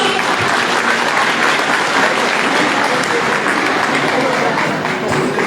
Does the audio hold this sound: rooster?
no